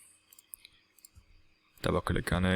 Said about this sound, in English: So you just double click on it.